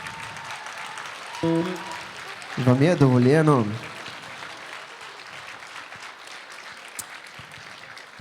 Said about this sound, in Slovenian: Ja, starši, lahko zaploskate,